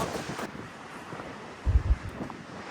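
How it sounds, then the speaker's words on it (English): Strong gusty wind buffets the microphone high on a mountain road near a lake, a steady broadband roar with a few heavier low thumps of wind hitting the mic partway through. "It is so windy up here, like unreal wind."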